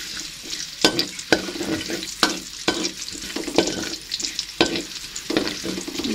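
Garlic sautéing in hot oil for tempe bacem, a steady close sizzle broken by sharp scraping strokes of a spatula against the pan at an irregular rhythm.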